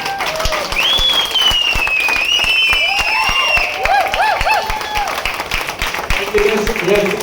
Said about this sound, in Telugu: ఈరోజు మీ క్లాప్స్ కానీ మీ కేరింతలు కానీ ఆ మేడం యొక్క హార్డ్ వర్కింగ్ అంకితం కావాలి